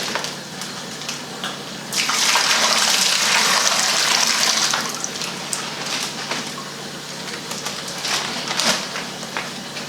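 Water with fish poured into a 75 aquarium, a loud close splashing rush lasting about three seconds before settling to soft trickles and drips.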